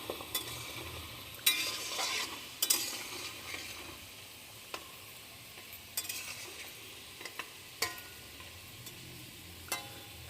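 Pitha rice cakes sizzle softly in a pan during Makar Sankranti cooking, while a utensil stirs and scrapes in scattered clinks and knocks over the quiet frying.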